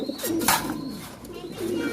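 Pigeons in a Dhaka home loft coo in soft, throaty, rolling calls close by, repeating through the moment amid faint fluttering and light rustles.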